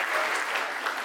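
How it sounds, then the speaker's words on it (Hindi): Steady applause from an audience at a motivational talk, dense and even for about a second with no voices over it. "एक बार जोरदार तालियां होनी चाहिए"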